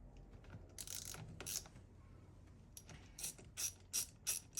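Ratchet with a 10 mm socket undoing the negative battery terminal nut on a Hyundai i10, quick bursts of close, crisp clicking in short strokes separated by brief pauses.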